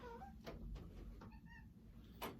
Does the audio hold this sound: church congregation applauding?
no